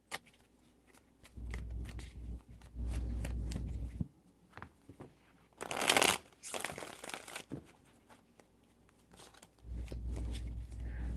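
Tarot cards are shuffled in several separate low, papery bursts with soft crinkling between them, close and fairly quiet, with no talking.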